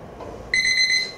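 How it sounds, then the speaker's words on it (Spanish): An alarm clock on a nightstand rings with a steady high electronic beeping tone that starts abruptly partway through and holds loud and continuous to the end, with no voices. "La alarma no cesa."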